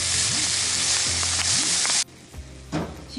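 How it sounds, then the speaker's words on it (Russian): Liver sizzles loudly in a frying pan for a savory liver cake, a dense steady crackle that cuts off abruptly partway through and leaves a much quieter, faint residual sizzle with a low hum. "Обжариваю сейчас пока."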